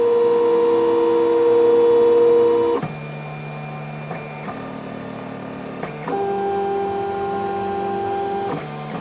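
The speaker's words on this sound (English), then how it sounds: "Now we're home on all the axes, getting ready to print." A heated BigBox 3D printer homes its axes before a print, giving loud, steady stepper-motor whines that jump in pitch several times as each axis moves, then settle into a sustained tone.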